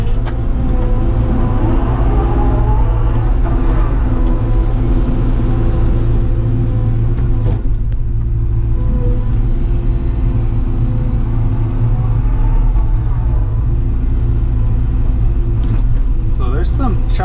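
An excavator digging back into a hillside with its bucket, heard from inside the cab as a loud, steady diesel engine rumble with faint scraping, and a voice talking over it.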